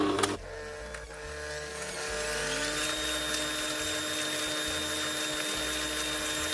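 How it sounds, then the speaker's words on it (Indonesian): Electric hand mixer beating egg yolks and sugar for a coffee mocha chiffon cake, a steady high motor whine that starts after a brief knock and runs continuously and loudly to the end. "lebih bagus hasilnya kalau kuningnya dan gula di mixer juga sampai creamy"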